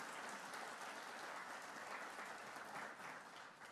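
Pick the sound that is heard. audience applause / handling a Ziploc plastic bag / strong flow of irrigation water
audience applause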